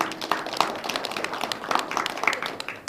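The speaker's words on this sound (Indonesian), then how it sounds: "boleh tepuk tangan sekali lagi." A studio audience at a television dialogue forum claps, a soft, scattered patter of hands that sounds somewhat distant.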